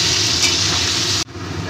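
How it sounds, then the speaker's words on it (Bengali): Potatoes seasoned with turmeric and salt fry in hot oil while browning for a mutton curry, a steady loud sizzle and hiss filling the pan that cuts off abruptly near the end. "এবার আলুগুলোকে আমি লাল লাল করে ভেজে নেব।"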